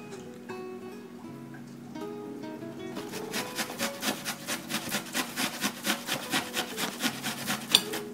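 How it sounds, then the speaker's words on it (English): Carrots being grated by hand for shrimp and pork siomai, starting with a few scattered scrapes, then a fast, regular run of rasping strokes close up, with no talking. "First, we're going to grate the carrots."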